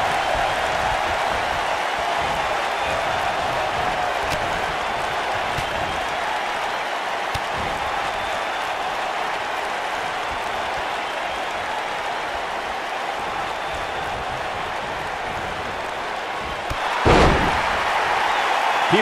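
Crowd noise from a WWE 2K19 wrestling match, a steady dense roar sustained throughout, with a brief louder burst near the end like a slam or impact.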